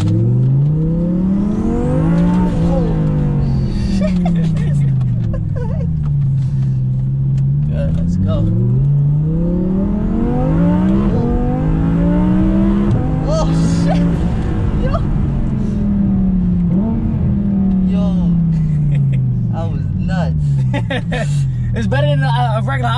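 A twin-turbo Audi R8 accelerates with a loud, close engine note that rises and falls through repeated rev sweeps. People talk over it inside the car.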